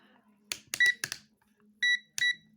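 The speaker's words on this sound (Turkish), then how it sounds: "Burada e, buzzer kademesine getirdim." Short electronic beeps from a multimeter continuity buzzer sound in quick bursts, then two longer tonal beeps, close and clear against quiet, with brief clicks.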